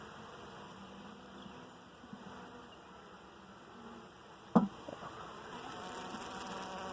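Honeybees buzz steadily around an open hive during an inspection, a faint continuous hum with one brief knock midway.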